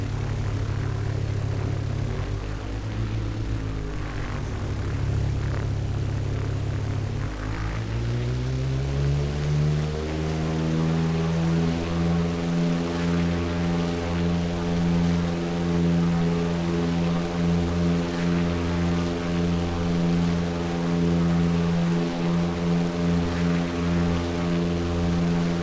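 A propeller airplane in Flight Simulator X roars steadily through its takeoff run, the engine note rising in pitch as power comes up, then holding a loud, constant drone with a strong harmonic hum and no voices.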